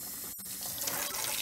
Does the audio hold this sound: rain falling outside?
no